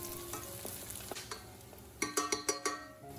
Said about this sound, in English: Add 1 diced onion and sauté for about 4 to 5 minutes until the onion becomes soft and fragrant.